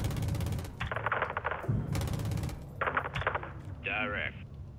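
Heavy cannon and gun bursts from an AC-130 gunship in the video game Modern Warfare 2 fire in several separate volleys, each a few seconds apart, with radio-style voice chatter in between.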